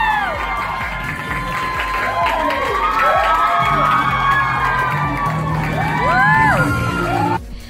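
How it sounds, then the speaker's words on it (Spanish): A large crowd of fans at a makeup event cheers, screams and whoops loudly and continuously. Excited high voices rise and fall in swelling shouts, with a brief drop near the end. "la gente se volvió loca, le gritó muchísimo"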